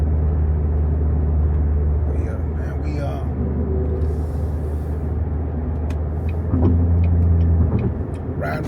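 Truck engine with a 10-speed transmission running under load, a loud continuous low rumble with shifts in engine tone as gears change, heard from inside the cab.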